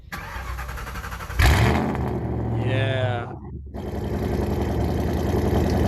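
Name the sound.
V8 engine with straight pipe exhaust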